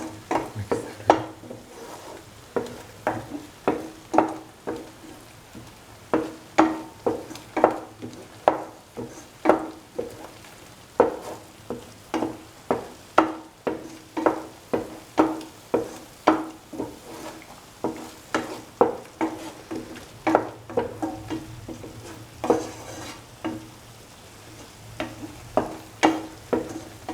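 Cottage cheese stew mixture with green chilies sautés in a pan, a soft sizzle broken by a rapid, regular series of spoon scrapes and taps against the pan, heard close and without talk.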